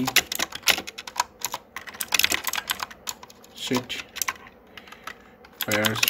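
Typing on a computer keyboard while writing web page code: clusters of quick, close key clicks in irregular bursts, with short pauses between them.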